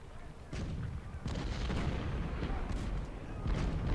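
Cannon artillery fires in the American Civil War strategy game Ultimate General Civil War, a series of muffled booms and crackling volleys layered into a continuous, fairly quiet battle din.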